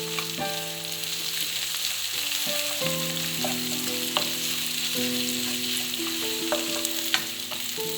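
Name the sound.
curry leaves and pandan frying in hot oil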